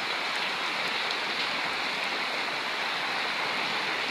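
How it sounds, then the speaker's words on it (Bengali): Heavy rain pours down in Faridpur district, Bangladesh, during the first rain of the year, a dense, steady rushing hiss of falling drops with no voices. "বৃষ্টির পানির ফোঁটাগুলো পড়তেছে। দেখুন প্রচুর বৃষ্টি হইতেছে ফরিদপুর জেলায়"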